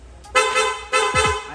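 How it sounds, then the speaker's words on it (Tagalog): A loud aftermarket horn on a Honda Click scooter blasts twice, each short honk bright and close, with a gap between them. "Sa loud horn, doon na po umiilaw yung MDL plus headlight."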